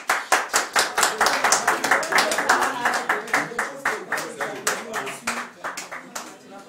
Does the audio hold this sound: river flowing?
no